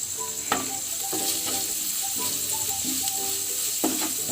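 Curry spices with salt and turmeric are stirred in hot oil for mutton curry. A constant loud sizzle is broken by a spoon scraping and knocking against the pan every second or so, with no talk.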